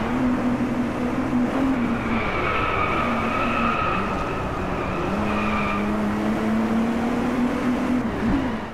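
A steady, fairly muffled sports car engine in the video game Driveclub drones at an even pitch throughout, with a faint tire squeal layered over the middle stretch.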